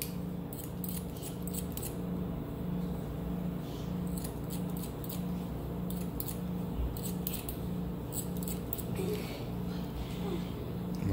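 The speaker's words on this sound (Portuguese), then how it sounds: "Tesoura desfiadeira, pente corrido, sem pressa" Thinning scissors snip through hair while a comb runs along it during a texturizing haircut, giving a steady run of quick, crisp close-up cuts in repeated bursts over a constant background.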